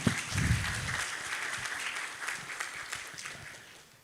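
Audience applause in a room honouring two visiting Vice Rectors of Nicolaus Copernicus University, a steady dense patter of many hands that starts strong and slowly fades over about four seconds.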